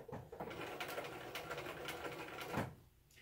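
Sewing machine stitching fabric for a McCall's M5822 accessories project, a quiet, rapid mechanical whirr running steadily for nearly three seconds before stopping, heard close and without talk.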